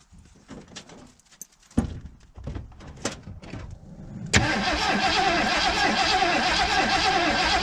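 A 1980 Ford Bronco, unstarted for 18 months, cranks with scattered knocks and sputters before the engine catches and settles into a loud, steady, rough-running roar close by, with the exhaust puffing.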